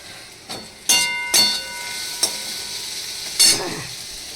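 Fish-frying oil heating in a karahi, with fresh oil added, gives a steady sizzle under several sharp clinks and scrapes of a spatula against the pan, fairly near.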